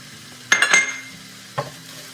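Flour being stirred into garlic cooking in a pan for cauliflower mac and cheese, with two short bursts of scraping and faint sizzle close by, the first longer and busier, then a brief second stir.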